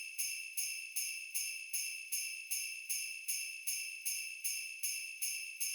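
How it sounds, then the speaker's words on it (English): A chimes sample in an FL Studio beat, bright metallic hits repeating in a quick, even rhythm, roughly fourteen strikes, each decaying briefly, soft and alone. "These chimes."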